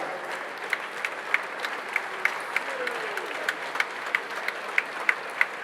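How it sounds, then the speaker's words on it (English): A round of applause from a school year-group audience welcoming a politician, a steady wash of many hands clapping with a few sharper claps standing out, continuous throughout. "Shall we please welcome, with a round of applause"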